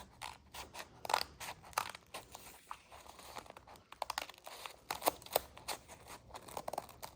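Repeated snips and crinkles of scissors cutting through Stalogy notebook paper, close up and fairly quiet, in irregular bursts with no talking.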